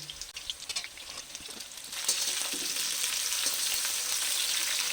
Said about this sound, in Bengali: এই সময় এবার আমি গাজরগুলোকে দিয়ে দিচ্ছি।